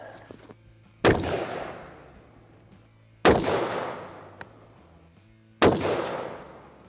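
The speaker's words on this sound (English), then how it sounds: "Next ammo I'm going to shoot is going to be the AAC Sierra Matchking 77 grain ammunition" A rifle fires 5.56 AAC Sierra Matchking 77 grain ammunition in three loud, sharp shots, spaced about two seconds apart, each followed by a long echoing decay outdoors.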